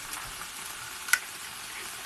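Garlic paste sizzling in a hot pan while a Rendang curry is cooked, a faint steady frying hiss with a single small clink partway through.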